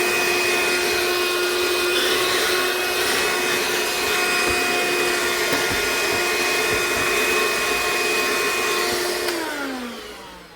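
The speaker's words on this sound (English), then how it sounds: "I gotta vacuum up these ants." A household vacuum cleaner runs steadily indoors, sucking up ants, with a loud constant whine and a faint rattle of debris, then the motor winds down at the end.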